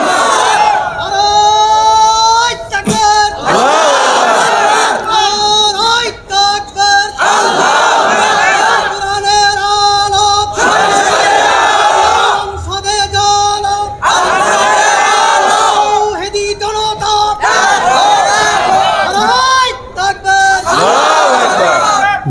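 Large crowd at a religious gathering roars a loud, sustained takbir response in repeated surging waves, many voices shouting together with brief dips between bursts.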